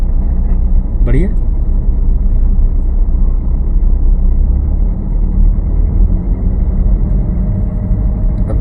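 A car engine hums steadily at low pitch during a driving lesson as the car accelerates, with an instructor speaking over it throughout.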